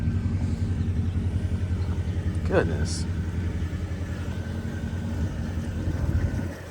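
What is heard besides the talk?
2011 Mercedes SL550 engine starting up and idling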